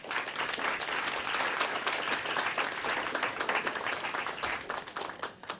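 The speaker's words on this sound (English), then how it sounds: "A round of applause for Mr. Coffey." Audience applause for the best speaker at an inter-secondary school debate, dense steady clapping from a hall crowd that holds for several seconds and fades slightly at the end.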